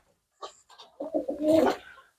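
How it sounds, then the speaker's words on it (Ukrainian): Pigeons in a field dovecote give a short burst of soft cooing, close and clear over a quiet background. "Білі голуби сидять"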